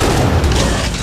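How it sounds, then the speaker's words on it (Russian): A heavy, booming gunshot blast in the action shooter Hellbound, loud and low, filling the whole moment with a dense rumbling impact. "Да кто там прям в спину мне стреляет?"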